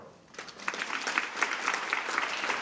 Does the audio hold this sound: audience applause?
yes